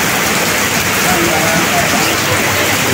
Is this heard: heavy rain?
yes